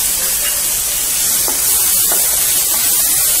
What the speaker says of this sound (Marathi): टोमॅटो व्यवस्थित परतून घेऊ.